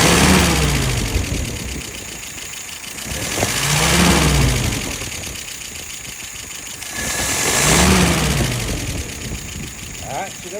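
An engine idles at roughly 680 RPM, a steady close rumble with slow periodic swells in loudness and a faint high whine, and a brief click near the end, no talking.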